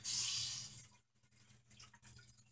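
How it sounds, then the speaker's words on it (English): A short hissing spray of water over seed trays lasts under a second, then gives way to quiet soft drips and small handling noises. "and I will water and cover,"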